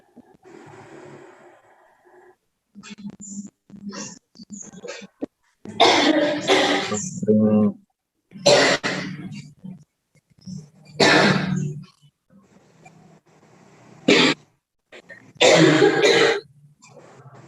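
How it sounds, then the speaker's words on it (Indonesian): Several harsh coughs in bursts, close to the mic, with quieter murmuring and breathing between them. "Habis minum, batuk-batuk."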